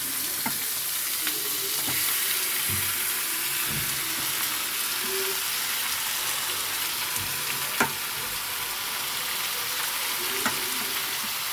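Potatoes and chicken fry in a pan with a steady, close hiss of hot oil, broken by scattered stirring clicks and scrapes throughout.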